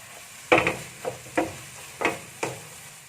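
A spatula scrapes and stirs green beans, dried shrimp and scrambled egg in a pan, five distinct close strokes spaced about half a second apart over a faint sizzle.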